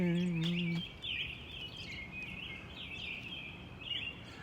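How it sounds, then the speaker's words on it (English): Birds chirp and call repeatedly at 1:30 in the morning after rain, a steady scatter of bright, fairly close tweets over a constant hum of background noise. A short tonal sound opens the scene before the birdsong settles in. "All the birds started singing."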